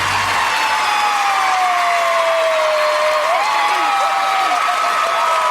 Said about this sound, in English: Listen as she's cheering for him. She sounds like a siren.